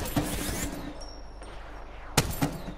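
Video game gunfire crackles in several quick bursts, a couple of sharp louder shots near the start and end over a faint background, moderately loud with no voices.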